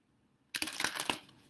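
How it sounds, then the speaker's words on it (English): A deck of cards being shuffled up close, a short burst of rapid riffling flutter that starts abruptly after a moment of near silence, then tapers off. "Shuffling cards, ready with spirit."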